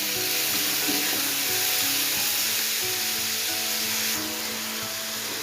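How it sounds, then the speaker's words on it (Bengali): Freshwater snails (gugli) frying with onions in a pan give a steady, close sizzle with faint stirring scrapes throughout, no voice present. "এইবারে পেঁয়াজটার মধ্যে এই যে গোগলিগুলো আছে এগুলো সব দিয়ে দেবো। চলুন ভেজে নিই।"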